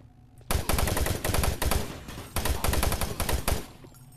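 Long-range weapon firing in Doom 3, two loud bursts of rapid shots separated by a short gap, close and punchy with no talk.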